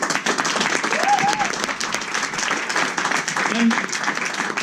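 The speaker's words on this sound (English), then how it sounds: "Amazing round of applause." An audience applauds at a music masterclass with a backing track, bursts of clapping running throughout while voices talk over it.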